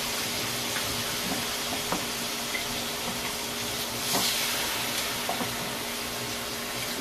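Food frying in its own rendered fat in a pan, a steady low sizzle with occasional soft pops and crackles, close and even, no voices.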